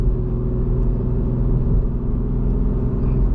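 A 2015 Porsche 911 GT3 with PDK gearbox drones steadily from inside the cabin, its engine note rising and falling slightly as gears change.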